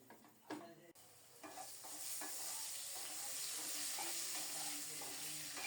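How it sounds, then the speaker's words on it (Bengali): Potato and pointed gourd pieces sizzle steadily as they fry in a pan, with a few stirring scrapes at first and then an even, continuous frying hiss close by. "আলু পটল প্রায় লাল লাল করে ভাজা হয়ে গেছে।"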